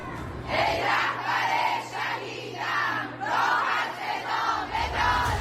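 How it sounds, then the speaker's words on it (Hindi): A dense crowd packed into a Tehran metro station chants anti-America slogans in loud, rhythmic surging bursts of many voices, repeating in waves over a low steady hum. "मेट्रो स्टेशन पर ही एंटी अमेरिका नारे लगाए जाने लगे"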